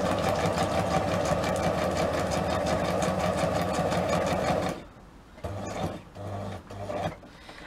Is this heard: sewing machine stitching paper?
yes